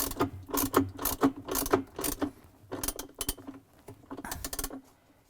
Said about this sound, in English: And I'm going to tighten the bolt.